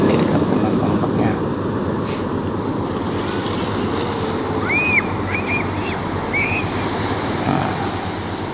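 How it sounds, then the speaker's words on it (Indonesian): Ocean surf rolls in at a beach in Kalianda, South Lampung, a steady close wash of breaking waves mixed with wind buffeting the microphone, faint distant voices and calls in the background. "Wah, lihat sendiri teman-teman ombaknya."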